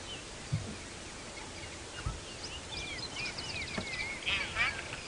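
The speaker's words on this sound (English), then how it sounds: "So we've got black-crowned tragras calling." Several whistled calls of black-crowned tchagras ring out over steady outdoor hiss at sunrise on safari, growing busier and louder toward the end, with a few soft thumps underneath.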